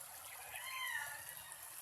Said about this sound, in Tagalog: Ito ang creek.